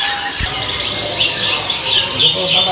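Canary song at a busy bird market in Indonesia, thin high chirps and trills running continuously over a steady market hum, with other birds calling around.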